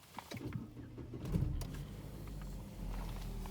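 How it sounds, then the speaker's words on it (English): A car engine starts and settles into a low, steady idle, heard faintly and close by with no talking over it. "Close it, and then I'll start the car."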